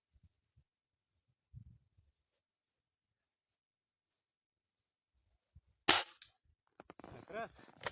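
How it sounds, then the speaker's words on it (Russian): Rifle shot fired at a target 80 m away in cold wind, a single sharp loud crack with a short tail, followed by brief speech; the rest is near silence with faint low thumps. "Сегодня буду стрелять с другой позиции."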